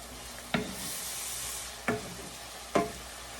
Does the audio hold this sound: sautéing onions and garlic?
yes